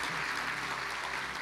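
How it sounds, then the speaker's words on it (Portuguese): Applause from a church congregation during a sermon, a short burst of dense, even clapping that fills the whole moment with no voice above it. "Você pode dar um aplauso ao Senhor?"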